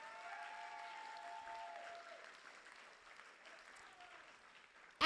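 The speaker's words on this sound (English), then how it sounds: "So give yourselves a round of applause." Graduates at a June 2026 graduation ceremony applaud themselves with a steady, soft wash of clapping that lasts throughout and sounds somewhat distant, with a faint tonal hum underneath.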